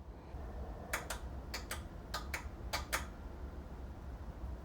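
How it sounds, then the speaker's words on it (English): Relays inside a Growatt solar inverter on an LG 400 V system click in three quick pairs, sharp and close, over a low steady hum. "We hear some relays clicking now."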